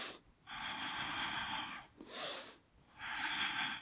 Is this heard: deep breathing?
yes